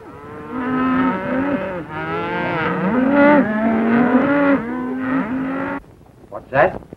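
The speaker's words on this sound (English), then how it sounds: "run off some of the Reed girls' cattle" Cattle moo loudly and repeatedly during a rustling scene in a 1938 western, long wavering bellows overlapping one another for several seconds, followed by a sharper brief cry and shouts.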